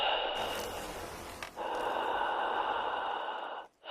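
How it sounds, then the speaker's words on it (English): Slow, deep breathing held close, a long breathy hiss drawn out over a few seconds with one brief break, then cut off abruptly at the end. "deep breathing"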